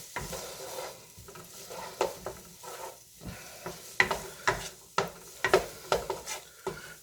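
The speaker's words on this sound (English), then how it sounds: "here all we're doing is we're sweating the onions" Onions sweat in a pot as a utensil stirs them, giving a soft steady sizzle broken by repeated scraping strokes that grow busier toward the end, close and clear with no talking.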